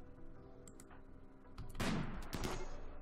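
A turret firing in RimWorld Alpha 13, heard as a few light clicks and then a sudden loud burst of shots that trails into a noisy rumble before another report.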